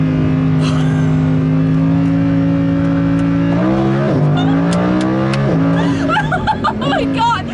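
Inside a 2015 Lamborghini Huracán LP 610-4, a loud engine drone builds as the car accelerates hard, with the pitch climbing through gear changes, while a passenger shouts excitedly over it.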